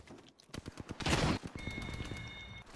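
Apex Legends gunfire comes in rapid bursts of sharp shots, with a loud dense volley in the middle and a steady high electronic tone afterwards.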